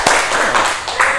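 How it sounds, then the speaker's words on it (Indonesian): A classroom group claps hands in a short burst of applause, several uneven bursts of clapping at close range. "Oh iya, tepuk tangan."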